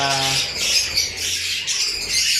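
Parakeets in a breeding cage squawk and chirp continuously in a dense, shrill chorus, loud and close, with a brief low voice at the start.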